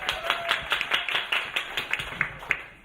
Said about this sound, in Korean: 박수 감사드리고요